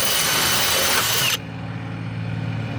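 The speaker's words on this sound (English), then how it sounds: "I didn't drill a big enough hole to make the rivet come out." Power drill boring out a rivet on a 1999 Ford F150 during a window drive unit replacement, a loud, steady high-pitched whine that cuts off abruptly partway through, leaving a lower hum and background noise.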